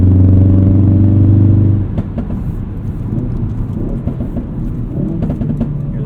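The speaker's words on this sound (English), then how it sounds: "Hear those pops under the overpass." A modified Ford Performance Focus RS driving an entrance ramp in drift mode, heard from inside the car. A loud, steady engine drone drops away into a rough, crackling run of exhaust pops under an overpass.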